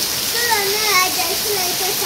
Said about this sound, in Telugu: చాలా వర్షం కొడుతుంది ఫ్రెండ్స్.